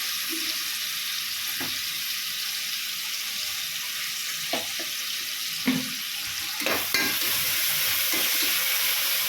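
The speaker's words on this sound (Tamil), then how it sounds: "வெங்காயம் வதக்கிட்டு இருக்கும் போது கொஞ்சம் உப்பு போட்டுடலாம்" Onions sautéing in a pan for biryani, a steady soft sizzle with occasional light clinks and scrapes of a spoon stirring, moderately quiet with no voices.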